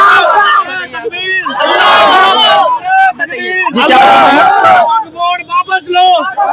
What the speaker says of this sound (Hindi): आप देख सकते हैं किस तरीके के नारेबाजी लगा रहे हैं यहाँ पे